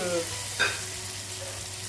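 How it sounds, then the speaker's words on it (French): Brick pastry sheets filled with minced meat and cheese fry in a pan, giving a soft, steady sizzle at low volume with a brief stir or shift of the pan partway through. "Là, on va passer à la friture"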